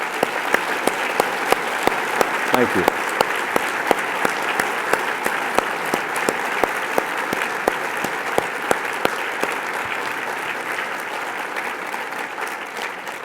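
An audience at a fireside chat with the US Secretary of State applauds the guests and panelists, steady dense clapping throughout that tapers slightly toward the end, with a brief spoken thanks early on.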